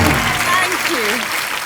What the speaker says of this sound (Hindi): जोरदार तालियां मनीषा जी के लिए एक बार।